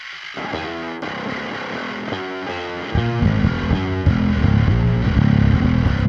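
A thin, trebly distorted electric guitar through the Aurora DSP Gorilla amp plugin riffs with chugging palm-muted chords, getting slightly louder and fuller halfway through, with no voices.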